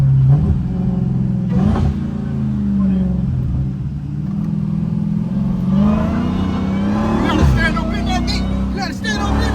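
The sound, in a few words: Dodge Hellcat engine accelerating without traction control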